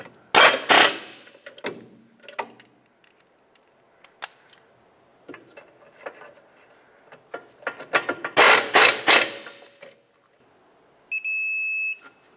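Ratchet snugging up bolts on the rear wheel hub of a 2007-2010 Chrysler Sebring, heard as short bursts of clicking separated by pauses, close by, with a brief electronic tone near the end.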